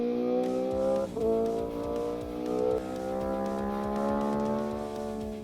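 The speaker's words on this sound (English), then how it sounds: "our next bike is a V4 masterpiece from Aprilia that sounds better than a Ferrari and handles like a scalpel" An Aprilia RSV4 Factory 1100 V4 sport motorcycle engine runs in a strong, close, steady tone that swells slightly, with no talking.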